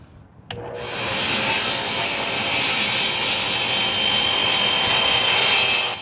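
Table saw ripping a composite I.Dekk decking board: a sharp start, then a loud, steady, high-pitched cutting whine that holds for about five seconds without a break.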